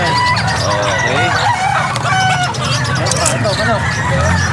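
Rhode Island chickens at a busy pet market crow and cluck loudly up close, repeated cock-a-doodle calls and clucks over a constant background of crowd babble and people talking.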